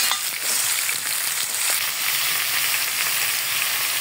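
Chopped gourd and tomato sizzle and fry in a hot pan, a loud, continuous crackling hiss close by with faint stirring and no voices.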